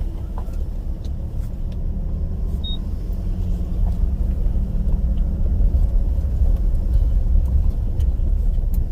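A 2022 Nissan Frontier Pro4X pickup crawling a mild off-road trail in 4-low, its engine a steady, close low rumble that holds unbroken and grows slightly louder throughout, with faint knocks and rattles on top.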